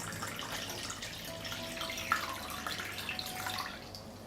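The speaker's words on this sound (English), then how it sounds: "I pour water into the pot up to the height of the lid" Water pours steadily into a pot holding glass jars of tomatoes and peppers, a soft continuous splashing rush with small gurgles, fairly quiet and close, with no voices.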